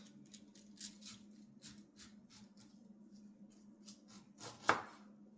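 A knife cuts through a pineapple in a quiet kitchen, making soft, irregular slicing and chopping clicks with one sharper cut near the end, and no talking.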